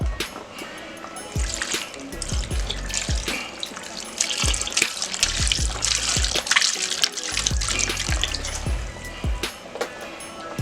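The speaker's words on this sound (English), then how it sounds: "I'm going to do about 1 cup of beef broth, maybe a little bit more than a cup." Beef broth poured into a 32-ounce container, a continuous close trickling and splashing of liquid, with faint low knocks and handling sounds underneath.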